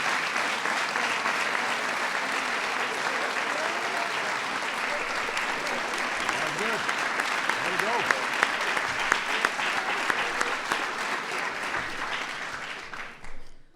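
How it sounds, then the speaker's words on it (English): Steady, sustained applause from a large crowd honoring the 2015 NCAA champion UConn women's basketball team, dense and even throughout, fading out at the very end. "So that deserves a big round of applause."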